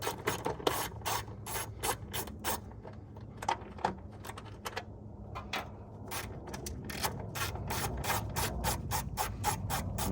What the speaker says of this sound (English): Now let's pop these top bolts back off